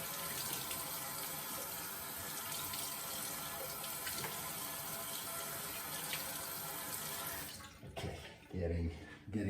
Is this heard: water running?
yes